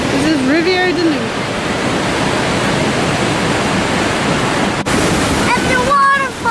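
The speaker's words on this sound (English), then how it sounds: "There's water rushing by." Water rushing loudly over the upper part of a waterfall at Rivière-du-Loup, Quebec, a dense continuous roar, with a child's and an adult's voices speaking briefly above it.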